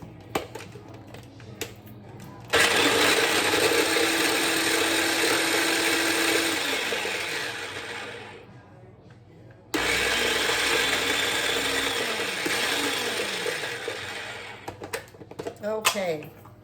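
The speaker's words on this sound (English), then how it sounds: "I have crushed garlic in there" Fresh garlic whirs in a small electric chopper or blender, two long loud grinding bursts separated by a short pause, with handling clatter near the end.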